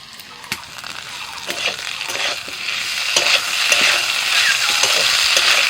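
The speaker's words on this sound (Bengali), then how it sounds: "আলুটা একটু নাড়াচাড়া করে নিয়ে পেঁয়াজ কুচুনো দিচ্ছি পেঁয়াজটা একটু ভেজে নিয়েছি" Potatoes, chopped onion and slit green chillies fry with ginger-cumin paste in a pan: a steady, close sizzle that grows louder, broken by scraping and clinking as the food is stirred. No talk.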